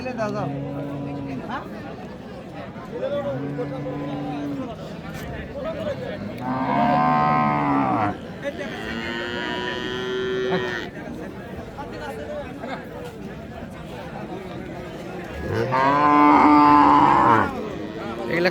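Cattle at a village cattle market in Raniganj, Dinajpur, lowing in several long, loud moos close by, with people chatting and haggling in the background throughout.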